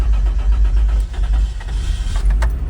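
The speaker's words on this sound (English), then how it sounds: "There she goes, she starts up first crank." A 1988 Toyota pickup engine cranks and catches on the first try inside a shop, settling into a loud, steady low rumble close by, with a few brief clicks and rattles on top.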